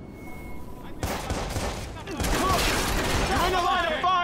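Video game gunfire in Watch Dogs: a dense, loud burst of shots starts about a second in and keeps rattling as sustained automatic fire, with game voices shouting over the shooting.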